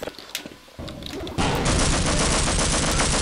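Half-Life gunfire starts as a few scattered shots. After about a second and a half it swells into a loud, dense, continuous burst of rapid automatic fire, with no talking over it.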